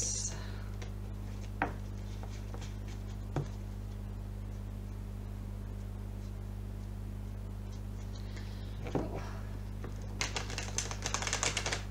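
A deck of new oracle cards is shuffled, quiet papery riffles and taps scattered across the stretch with a denser flurry of card flicks toward the end.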